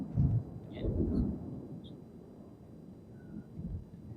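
Thunder rumbles low and heavy with steady rain, strongest in the opening second and again near the end, heard alone with no talk.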